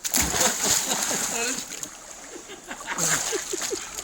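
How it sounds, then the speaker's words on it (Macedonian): People splashing around in a new swimming pool, water slapping and sloshing in bursts while voices talk and call out over it. "Сега сме во вода, базент се купемо."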